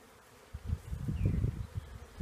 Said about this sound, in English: here's this gorgeous swarm of bees